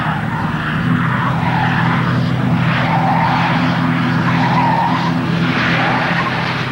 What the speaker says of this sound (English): The Falcon is now traveling at over 90 kilometers per hour.